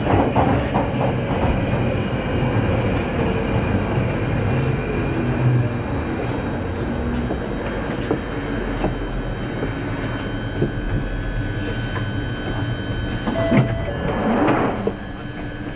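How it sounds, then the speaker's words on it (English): A London Underground train on the line through Charing Cross to Morden runs loudly, with rumbling wheels, clattering over the track and high metallic squeals, a steady roar throughout. "This train terminates at Morden."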